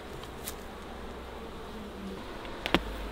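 Honey bees buzz around an opened, smoked hive, a faint, steady insect hum close by with a few soft knocks and clicks near the end, no talking.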